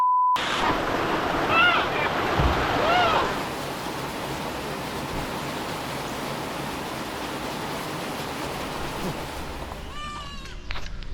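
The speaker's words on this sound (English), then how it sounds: "It started pouring rain." Heavy rain pouring outdoors as a storm arrives in wild country: a loud, broad hiss that is strongest at first, then settles into a steady wash, with a few brief calls over it near the end.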